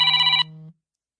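A phone rings with a short electronic trill that stops abruptly, leaving a brief low hum before silence.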